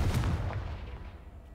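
A Confringo spell in Hogwarts Legacy lands as a low, booming blast that rumbles and fades out over about a second and a half.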